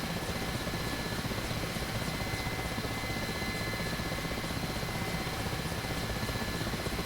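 A Mi-8 helicopter in the DCS World flight simulator gives a constant, dense whir of rotor and turbine engine, a steady roar with a faint high whine and no break.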